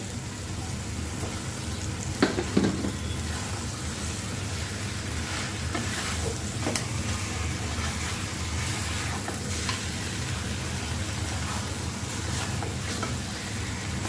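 Fried rui and katla fish heads go into a pan of masala for a village-style muri ghonto, producing a steady close hiss of sizzling oil with a few stirring knocks near the start and no talk.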